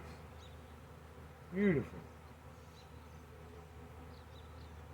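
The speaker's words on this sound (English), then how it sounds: "Beautiful bees." Swarm of honey bees being caught and installed in a hive, giving a soft, steady hum close by. Partway through, a person briefly speaks over it.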